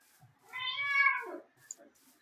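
A person imitates a cat with one drawn-out, rising-then-falling meow, close and clear, followed by a short faint sound in otherwise quiet surroundings.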